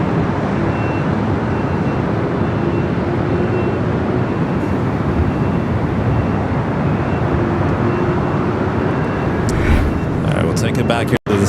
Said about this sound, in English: That is Cargolux Flight 9, a 747-400 freighter, 26 years of age.